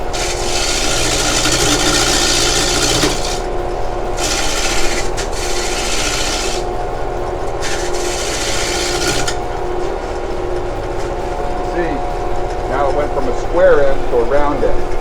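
Square end of a wooden piece being rounded on a lathe in a wood shop, a steady loud rasping and scraping that runs continuously with bursts of stronger cutting, with a voice talking over it.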